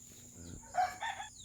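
Backyard hen near a pond, with short bursts of clucking and calling rising twice after a quieter start, moderately close and alone.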